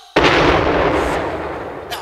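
Ceremonial cannon salute booming out at a field ceremony: one sudden loud blast followed by a long rumbling roar that slowly fades, with a faint second pop near the end.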